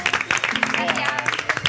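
A studio audience on a competition show claps for the first eliminated contestant: a short burst of applause mixed with a voice speaking over it.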